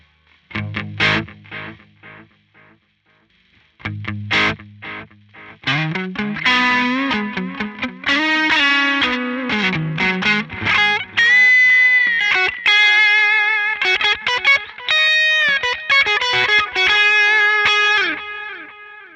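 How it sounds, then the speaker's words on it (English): An electric guitar played through a wave delay pedal at the end of a pedalboard rings out with a few sparse chords, then a long stretch of sustained, layered notes whose echoes smear together, loud and close. "finally we have this wave delay. I put this delay at the very end."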